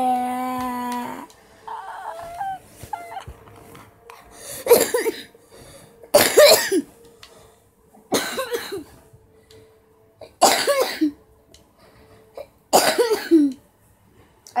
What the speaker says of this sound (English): I got the cough.